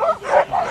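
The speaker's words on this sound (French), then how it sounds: "C'est des huskies sibériens." Siberian huskies at an outdoor sled dog event in Megève give a quick run of three yelping, howl-like barks, close and loud, with light crowd noise underneath.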